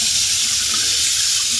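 A hotel bathroom sink faucet runs steadily at strong pressure, a continuous close, loud hiss of water streaming into the basin throughout, with no voices.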